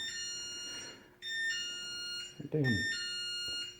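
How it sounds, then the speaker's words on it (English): An electronic burglar alarm in a home workshop sounds repeated steady high-pitched beeps, loud and close, broken by short gaps, while someone speaks briefly over it. "that's my burglar alarm thing going off"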